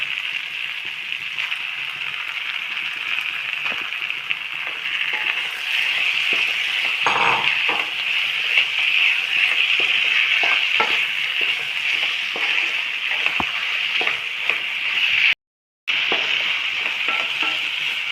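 Small pieces of chicken frying in a pan for a chicken stew, a loud continuous sizzle with occasional stirring clatter and a brief cut near the end.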